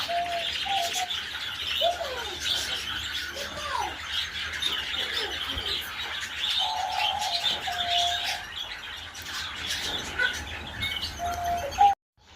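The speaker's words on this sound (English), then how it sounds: "Bright green and red little birds there." Small bright green and red birds chirp and tweet steadily in an aviary at a Victorian town park in Swindon, Wiltshire, with repeated short calls and a soft cooing note layered over light background noise throughout.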